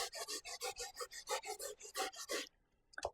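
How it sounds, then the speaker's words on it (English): Jamaican yellow yam rasped on a hand grater in a home kitchen for sweet potato pudding: rapid, steady back-and-forth scraping strokes, close and loud, stopping near the end with a couple of brief knocks. "So now I'm going to grate the yam. And this is the Jamaican yellow yam"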